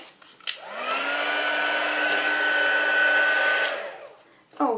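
A hair dryer blows on wet paint, switching on with a click into a steady, loud whirring roar that holds for about three seconds, then clicks off and winds down.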